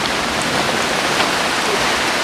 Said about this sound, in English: But this is like a steady rain